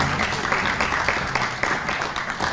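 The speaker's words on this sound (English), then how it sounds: "Please, a round of applause for a great friend" A crowd bursts into a round of applause for a guest at a gathering of Knesset members, dense sustained clapping from many hands filling the room at close range, steady and loud throughout.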